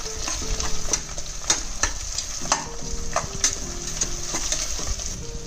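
Onions sautéing in a pan for corn biryani, a steady close sizzle broken by regular scraping stirs and light clinks of a spoon on the pan, with no talking.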